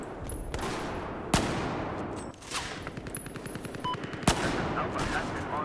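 Long-range gunfire in Battlefield 4 multiplayer: two sharp, loud shots stand out over a busy bed of distant rattling fire and battle noise, with a short burst of rapid fire in the middle.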